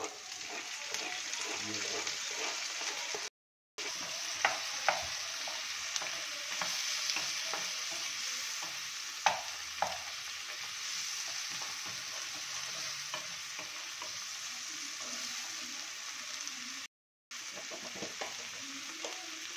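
Garlic, onion and tomato fry in a pan for Indian-style macaroni pasta, sizzling steadily while a spoon scrapes and stirs in repeated strokes, close and moderately loud, with two brief cuts to silence.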